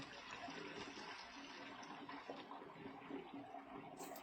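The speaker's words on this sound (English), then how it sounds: "I have this boiling water. I'm going to pour it right in this pan." Boiling water pours steadily into a pan nearby, a continuous splashing, gurgling rush that stays even throughout.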